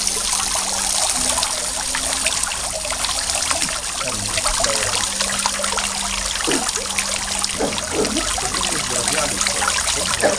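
Water from a fountain trickles and splashes in a steady, close stream, with a low hum running underneath.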